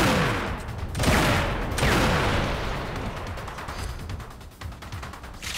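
Gunfire in the video game Riddick: Escape From Butcher Bay, with dense sustained bursts of shots, booming reports and echoing cracks that gradually thin into scattered rapid pops.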